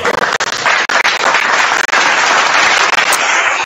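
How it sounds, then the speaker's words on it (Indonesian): Loud, sustained clapping from a church crowd fills the whole stretch as a dense, unbroken wash of hands, with a few sharper bursts standing out near the end. "Tepuk tangan semua."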